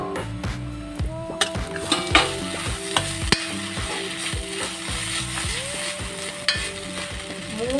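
Prawn coconut curry cooking in a pan, with repeated scraping and stirring clatter from a spoon over a steady low simmer and faint sizzle, close and moderately loud, with no talk.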